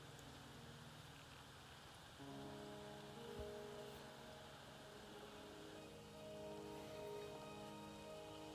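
Rain falls steadily in the video game Wuthering Waves, a soft continuous patter with a quiet, sustained musical tone layered over it.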